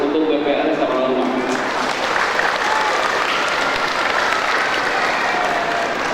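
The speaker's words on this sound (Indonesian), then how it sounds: "mari kita berikan aplaus untuk PPRS Amanah Umat" A crowd at a Ramadan gathering of the Islamic bank BPRS Amanah Ummah applauds in loud, steady clapping that lasts several seconds, with voices over the clapping.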